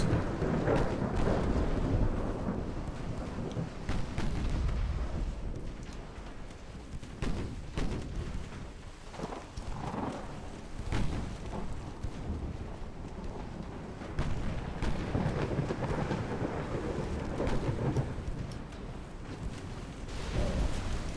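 Torpedo hits explode on warships in a naval video game, giving low, rolling booms and rumbling thuds that swell and fade over a continuous deep background roar, with no talk.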